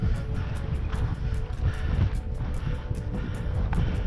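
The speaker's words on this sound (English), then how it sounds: "It's really windy." Strong wind buffets the microphone in gusty, rumbling bursts, a steady roar with no voices, loud and close throughout.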